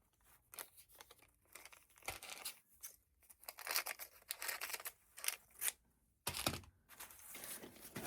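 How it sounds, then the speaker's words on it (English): Scissors cutting out a fabric piece for a collage portrait quilt, a quiet close run of crisp snipping strokes with light crinkling between cuts. "And I'll cut out this piece here."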